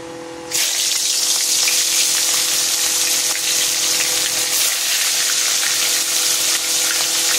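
Fish pieces go into hot mustard oil in a kadai. After a brief quiet start, a sudden loud, dense sizzle bursts in and holds steady and close to the end, with no talking.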